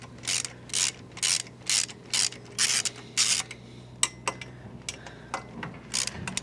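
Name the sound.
ratchet with 13mm socket on motorcycle exhaust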